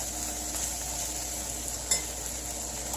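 Scrambled eggs and vegetables are stirred in a hot pan, giving a constant sizzle with a few soft scrapes and clinks of a utensil against the pan.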